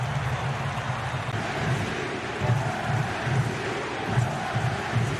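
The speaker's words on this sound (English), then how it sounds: "Crowd serenades Acosta as he swings in the corner." A stadium crowd sings and chants steadily in the distance for a soccer player taking a corner during an Inter Miami versus Cincinnati match, a broad continuous roar with rhythmic swells throughout.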